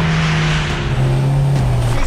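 Volvo Iron Knight truck accelerating hard on a track during a world speed record run, a loud continuous engine roar with a steady low drone that rises slightly as it pulls away.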